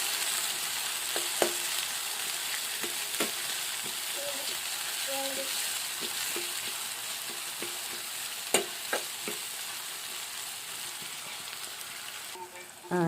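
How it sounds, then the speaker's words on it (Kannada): Tomato and onion frying in oil in a home village kitchen, a steady broadband sizzle running throughout with scattered utensil taps and scrapes from stirring, close and moderately loud, with no talking. "ಇವಾಗ ಒಂದು ಸ್ವಲ್ಪ ಎಣ್ಣೆ ಎಣ್ಣೆಗೆ ಚೆನ್ನಾಗಿ ಕೆಂಪು ಆಗತ್ತನ ಫ್ರೈ ಮಾಡ್ಕೊತೀನಿ ರೀ"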